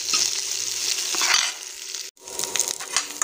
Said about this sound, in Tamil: குடமிளகாய் எண்ணெயிலே வதங்கட்டும்.